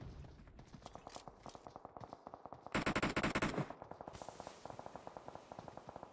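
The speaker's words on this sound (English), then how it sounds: "Æsir Titans are coming under fire." Rapid automatic gunfire in a battle royale video game, steady bursts of shots at moderate distance, swelling into a dense, louder volley midway before settling back into repeated firing.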